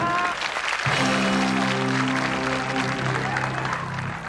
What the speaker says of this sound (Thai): ปรบมือด้วยครับ